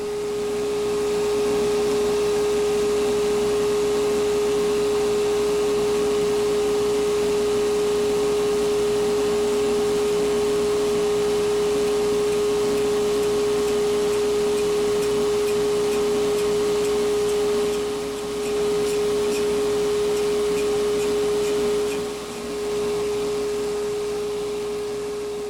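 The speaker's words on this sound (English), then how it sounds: "It seems that about 140 RPM is as fast as I want to go here. Otherwise, as you saw, my lathe starts to rock pretty good." A wood lathe spins a log at about 140 RPM, giving a loud, continuous steady hum with a constant tone and a few brief dips, and no talking.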